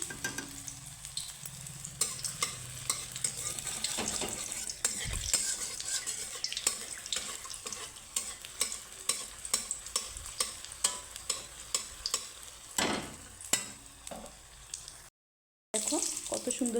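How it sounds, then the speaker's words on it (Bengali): Pieces of ash gourd fry in hot oil at low-to-medium heat, a constant loud sizzle broken by scraping and clinking as a spatula stirs and turns them. Faint talk may sit underneath, and a brief dropout occurs near the end. "তেল দিয়েছি তেলটা গরম হয়ে গেছে এখন দিয়ে দিব আমি তো ফ্রাই করে নেব"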